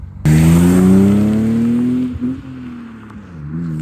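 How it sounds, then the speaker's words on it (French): A BMW E36 323i inline-six with a stainless steel exhaust roars loudly as it accelerates, pitch climbing steadily for about two seconds, then dropping back with a brief shift before rising again. "regardez-moi cette jolie accélération de cette E36 323 avec l'inox derrière"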